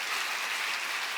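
A church congregation gathered for a midsummer worship service claps together in a brief, dense, even burst of applause with no voices over it.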